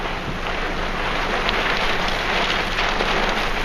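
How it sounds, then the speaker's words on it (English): Rain beginning to fall during a dust storm over Phoenix near the I-10 freeway, a steady broadband hiss of drops mixed with wind rumble, continuous and fairly loud throughout. "as it starts to rain"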